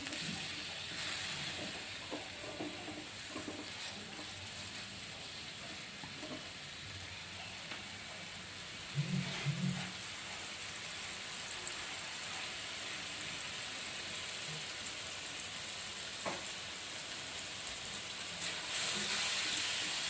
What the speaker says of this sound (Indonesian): Tumis ya teman-teman.